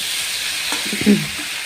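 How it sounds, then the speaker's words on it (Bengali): Raw banana and cauliflower pieces, coated in spices for a fish curry, fry in a pan with a steady hiss and sizzle, broken near the end by a few close spatula scrapes and clinks. "ভালো করে নেড়ে চেড়ে ভেজে নিতে হবে সবজিগুলোকে"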